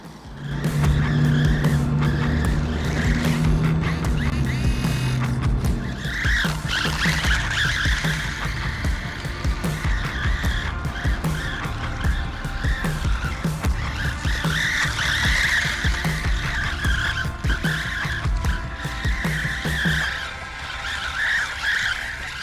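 A cheap mini Hoonitruck RC drift car on drift tyres skids at full throttle, giving a loud, continuous tire squeal with a whining electric motor. It holds steady for about twenty seconds and fades slightly at the end, with no talking.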